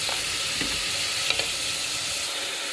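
Food sizzles steadily in a pan while being stirred for a white-sauce dish of peas and Jerusalem artichokes. The constant frying hiss has a few soft scrapes and taps, with no voices.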